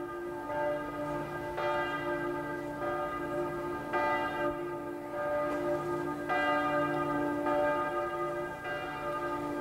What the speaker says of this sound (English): The Glockenspiel in the town hall spire at Marienplatz first rung in 1908.